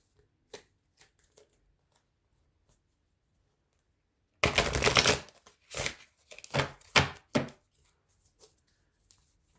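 A deck of playing cards with a compass design on the back is riffled in one loud burst, followed by several quieter snaps and taps as the cards settle, heard close up with no talking.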